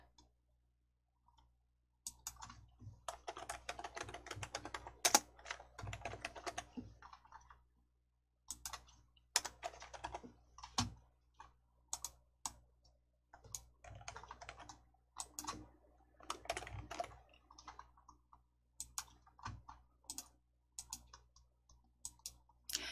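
Clicking from a computer on a word-processor formatting task, a fast run of light, close taps and clicks in uneven bursts with short pauses, no voice over them.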